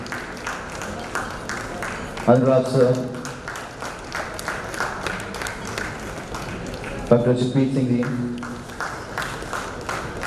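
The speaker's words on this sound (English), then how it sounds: "Big round of applause, please." Audience clapping runs throughout at moderate level while a man announces over it, the applause swelling in bursts after each announcement.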